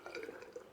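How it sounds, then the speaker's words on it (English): Distilled water is added slowly from a bottle into a glass flask during an acid-base titration, giving a few faint, soft drips and trickles alone in a quiet room. "I'm just going to take my bottle with distilled water, and I'm just going to add it"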